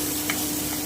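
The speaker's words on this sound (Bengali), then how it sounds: "আমি একটু নেড়ে নিচ্ছি" Squash and potato fry with poppy seeds stirred in a pan on the stove, a brief soft scrape over a steady low sizzle, heard alone.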